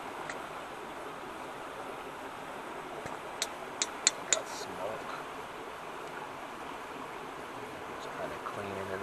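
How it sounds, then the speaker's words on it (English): Boiling water bubbles and hisses steadily while a spoon is rinsed in it outdoors on an overnight camping trip, with a few light metallic clinks in the middle. "Just kind of wash it in this boiling water."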